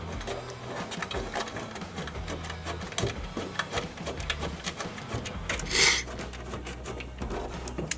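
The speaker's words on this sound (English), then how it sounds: "Everything seems to be screwing in really nicely." Screws driven into a Harley-Davidson tour pack during assembly with a large backrest and luggage rack, a steady whirring drive with faint clicks and a brief higher burst near the end, no talking.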